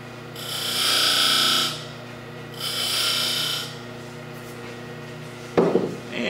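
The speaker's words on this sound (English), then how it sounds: "Sandpaper." A wooden finial being sanded with sandpaper on a lathe gives two bursts of steady, rough rasping over a faint motor hum, then a short sharp knock near the end.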